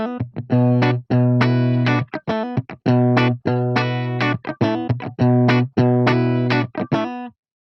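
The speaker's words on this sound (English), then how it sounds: "in buffered mode, when the modulation effect is off, you essentially have a preamp pedal" An electric guitar is played through a Behringer Chorus Symphony analog pedal in buffered preamp mode, giving a loud, gritty overdriven tone; choppy chords and single notes ring out in bursts with short gaps, ending in silence, with no talking.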